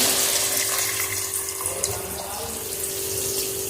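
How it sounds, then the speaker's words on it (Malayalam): Prepared tamarind water pours into a pan of fish curry, a steady continuous splashing and running-water rush lasting several seconds, close and fairly loud with no talking. "ഈ സമയത്ത് തയ്യാറാക്കി വെച്ച പുളിവെള്ളം അതിലേക്ക് ചേർത്ത് കൊടുക്കാം."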